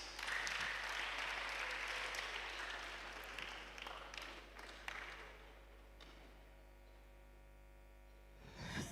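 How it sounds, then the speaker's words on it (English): Audience clapping at a school inter-house debate competition, a dense round of applause that fades out over several seconds, leaving a loud steady electrical hum underneath. "please give them a clap"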